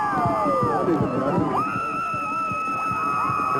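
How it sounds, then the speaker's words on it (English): Excited crowd at a 2003 high school playoff football game, cheering and yelling from the far side of the field, a distant wash of shouts and whoops with whistle-like tones on top. "An excited crowd over there on the far side."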